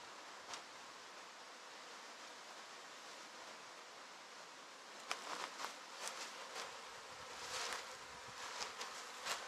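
Steady insect buzzing from many honey bees around a hive fills the air continuously, with a few sharper, closer passes standing out in the second half.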